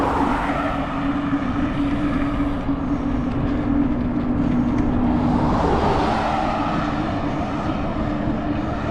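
Steady loud roar of road traffic passing close by on a ride toward Lucky Peak Dam, a continuous engine and tire rumble with a low droning hum and a swell of passing vehicles near the middle, no voices.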